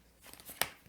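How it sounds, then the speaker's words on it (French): A Magic: The Gathering Time Spiral Remastered booster pack is bitten and ripped open, with faint crinkling that builds into one sharp, close tearing rip near the end. "Il mord le booster pour ouvrir"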